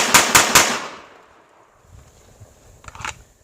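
Close-range pistol shots fired from contact sound as three rapid sharp bangs right up front, then a quieter pair of reports after a pause, with handling noise between and no talking.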